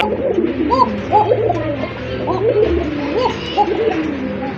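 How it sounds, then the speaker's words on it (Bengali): A pair of Indian Mumbai pigeons coos in repeated, rolling phrases, close and steady over a low background murmur. "মাশাআল্লাহ, খুবই ভালো মানের এক জোড়া কোকা কবুতর"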